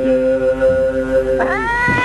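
A cat gives a drawn-out, wavering meow that rises and bends in pitch, loud and close, with no talk over it.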